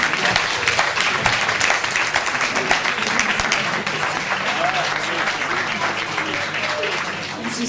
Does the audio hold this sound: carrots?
no